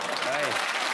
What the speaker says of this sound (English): You all groaned and then applauded